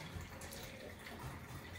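Water and distilled vinegar poured into a homemade all-natural disinfectant spray mixture, heard as a steady, soft, continuous splashing stream lasting a couple of seconds, close by, with no talking.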